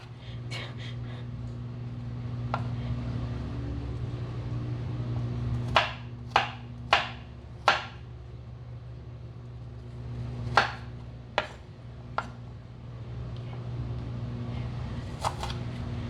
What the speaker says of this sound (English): So when you chop it up, it's kind of more of a rough cut